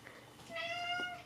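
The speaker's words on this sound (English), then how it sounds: "that's my cat over there" A single short cat meow with a clear, rising-and-falling tone, faint and heard on its own in a quiet room.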